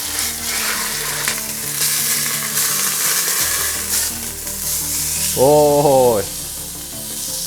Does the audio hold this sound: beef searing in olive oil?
yes